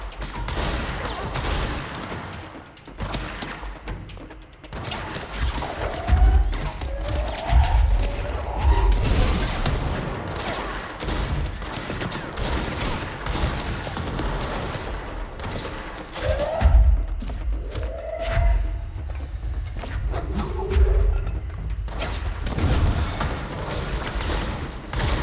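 Shotgun-wielding enemies in the action game Control fire repeated booming blasts amid scattered crashes and mechanical clatter, loud and close with intermittent impacts across a busy combat mix.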